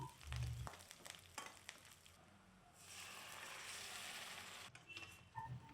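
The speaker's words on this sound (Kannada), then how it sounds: "ಒಗ್ಗರಣೆಗೆ ಸಾಸಿವೆ, ದೆನ್ ಆನಿಯನು, ನೆಕ್ಸ್ಟ್ ಕರಿಬೇವು ಇದನ್ನು ಹಾಕ್ಕೊಂಡು ಫ್ರೈ ಮಾಡ್ಕೋತಾ ಇದ್ದೀನಿ" Mustard seeds, onion and curry leaves frying in oil for a tempering, a steady close sizzle with light crackles and a few utensil clinks, swelling into a broad hiss midway before settling.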